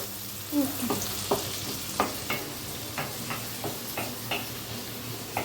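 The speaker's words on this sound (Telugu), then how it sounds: "బాగా మిక్స్ చేసుకుంటా ఉంటే యూనిఫామ్గా ఉడుగుతుంది సో అన్నీ వచ్చేసి కరెక్ట్ ప్రపోర్షన్లో ఫ్రై అవుతాయి అన్నమాట" Egg bread curry frying in a pan while being stirred, a steady low sizzle broken by repeated sharp scrapes and taps of the spoon against the pan, close and moderately loud, with no talking.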